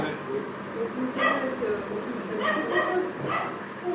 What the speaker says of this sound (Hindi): আমাদের পাশে কুকুর আছে